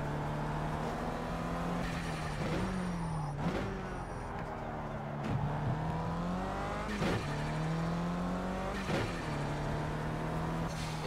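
A KTM X-Bow race car in the Project CARS racing game drives through turns, its engine droning steadily and rising and falling in pitch with gear changes and throttle lifts, broken by sharp shift transients.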